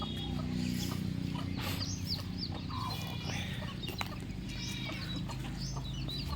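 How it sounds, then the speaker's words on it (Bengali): Chickens, including a hen with eight young chicks, cluck and cheep while being fed in front of a house; soft scattered calls keep up over a steady faint outdoor background. "আমার বাসার সামনে মুরগি খাওয়ানো হচ্ছে।"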